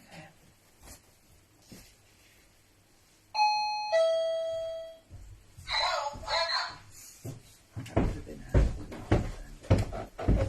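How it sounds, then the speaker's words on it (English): An electronic door sensor chime in a crystal shop rings out a clear two-tone ding-dong, followed by the clatter of the door and people talking nearby. "We heard the sensor go off the second time just before you came down."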